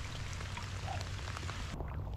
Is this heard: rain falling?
yes